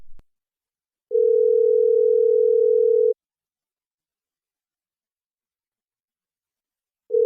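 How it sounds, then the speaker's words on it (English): A telephone ringback tone sounds while a call is placed: a steady two-second tone, a long silent gap, then the tone starting again, clean and alone with no talking. "Bella, let me call him."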